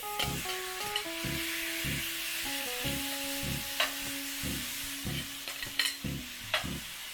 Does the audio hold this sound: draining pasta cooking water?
no